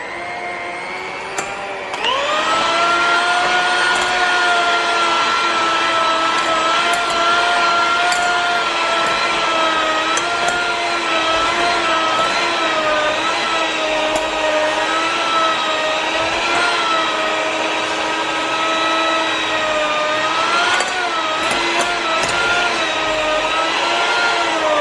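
An electric hand mixer fitted with dough hooks beats dough for a flat chicken pastry, a steady, close motor whine with a rattling edge that holds for the whole stretch after switching on.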